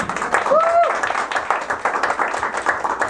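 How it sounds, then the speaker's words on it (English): An audience at a reception breaks into dense, steady applause, with a brief whistle and some voices mixed in throughout. "Give a big round of applause for women."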